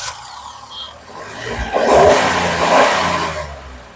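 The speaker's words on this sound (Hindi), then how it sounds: "तो ये वाला जो इंजन था आपका 1 लीटर का 3 सिलेंडर इंजन" A Maruti Suzuki Wagon R's 1.0-litre three-cylinder petrol engine revs up, rising from a steady drone to a louder peak and easing back, heard alone with no talk.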